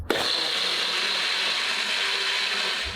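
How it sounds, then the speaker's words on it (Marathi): A mixer grinder whirs steadily at high speed blending a mint drink with water, a loud continuous motor drone with a bright, gritty churning edge. "याला आता मिक्सरला फिरवून"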